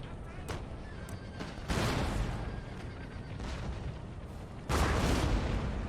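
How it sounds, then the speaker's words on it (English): Cannon artillery fires across a battlefield in the Empire: Total War video game, a series of booming blasts with two especially heavy volleys amid a continuous rumble of distant shots. "Those cannons unloaded."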